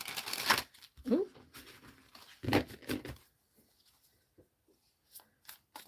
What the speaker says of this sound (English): this one's shuffling much better